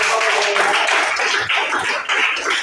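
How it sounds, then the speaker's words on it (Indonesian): Applause breaks out in a classroom, a dense burst of many hands clapping at once that holds steady and fairly loud throughout, with a few voices mixed faintly into the clatter. "Tepuk tangan dulu untuk kita semua"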